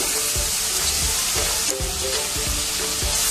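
Garlic and ginger sizzle and fry steadily in hot coconut oil in a pan, a loud continuous crackle with faint periodic scraping of stirring underneath, no voices.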